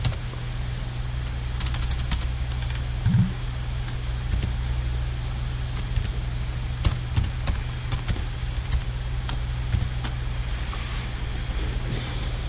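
Someone types a password on a computer keyboard while setting up Ubuntu Linux 11.04 in VirtualBox, producing scattered clusters of crisp key clicks over a steady low background hum.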